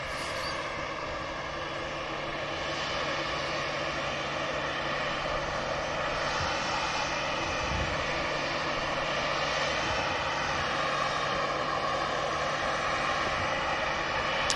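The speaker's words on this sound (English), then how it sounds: "Ryanair just touching down while the TUI continues taxi" A Ryanair airliner touching down at Manchester Airport, heard as a steady, loud broadband jet roar that holds throughout with a constant low hum beneath, no voices present.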